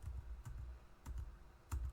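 Arrow keys on a computer keyboard are pressed during video editing, three or four quiet, evenly spaced taps over a low background hum with no talking.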